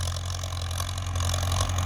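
Ford tractor engine running steadily while ploughing a field, a continuous loud low rumble with a droning hum and rough mechanical texture, close by and without talk.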